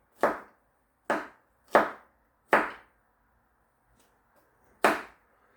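A knife cuts a Korean zucchini into thin slices on a cutting board, giving five sharp, close chops in an uneven rhythm with a pause before the last, and no talk over them.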